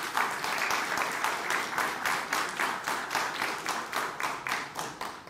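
A crowd claps at a Sabbath-evening launch of a book of religious law and ethics, many hands beating together in a strong, steady rhythm that rises and falls in even pulses.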